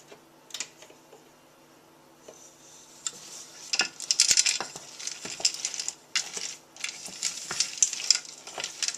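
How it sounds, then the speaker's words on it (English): Chips and corn syrup stirred in a pan over low heat, a spoon scraping and clicking in irregular bursts against the metal with soft sizzling, close and fairly loud. "heat this over low heat, stirring constantly until the chips are melted and the mixture is smooth"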